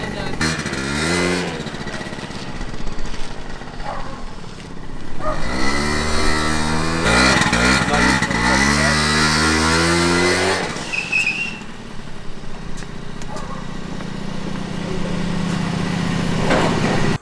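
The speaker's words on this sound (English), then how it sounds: "I was just riding around the scooter for a while now, tuning it up." A two-stroke 50cc Honda Elite scooter with a new exhaust pipe revs up and down repeatedly with rising and falling pitch, buzzing loudly nearby, then settles into a steadier riding drone with wind noise.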